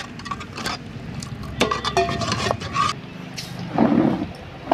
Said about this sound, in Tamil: ஆட் பண்ணி நல்லா கிண்டி விடுங்க.